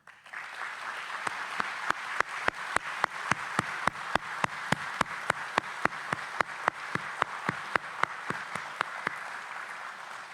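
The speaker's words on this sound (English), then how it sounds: "Let's give them a round of applause for their extraordinary work and commitment." An audience at a groundbreaking ceremony for the Douglas Port of Entry claps for the technical team and funding partners, a steady bed of applause with a prominent, evenly paced rhythmic clap running through it for about ten seconds.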